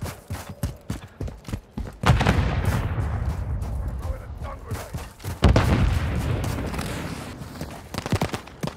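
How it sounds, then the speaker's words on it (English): Grenade explosions in the video game Call of Duty: Modern Warfare III, heavy booming blasts at about two and five and a half seconds amid scattered gunfire and battle noise, loud and close. "Grenade out!"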